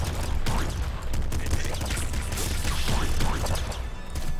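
Dense, continuous gunfire bursts and impacts from the video game Nuclear Throne crackle throughout, busy and loud with scattered hits and mechanical clatter.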